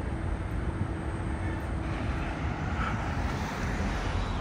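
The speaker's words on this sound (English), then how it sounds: "So আপনারা দেখতেই পাচ্ছেন ট্রেন, ওই যে দূর থেকে দেখা যাচ্ছে ট্রেন।" A distant train rumbles near the Coney Island station in New York, a steady low roar that blends with wind and outdoor noise, faint and continuous throughout with no voices.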